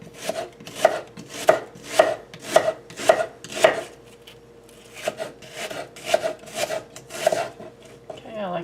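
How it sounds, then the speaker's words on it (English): Sharp, close knife chops slicing an onion thinly on a board for homemade chicken soup, a steady run of rhythmic cuts, a brief pause, then another even series. "I like to slice the onion thinly."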